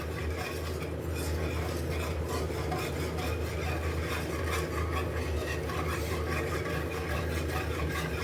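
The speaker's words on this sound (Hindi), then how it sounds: "यहाँ पर हमने लो फ्लेम पे चॉकलेट गनाश को पका लेना है, अच्छे से कुक कर लेना है।" Chocolate ganache stirred in a pan over a low flame, a steady close scraping and rubbing of the spoon against the pan over a constant low hum, with no pauses or talk.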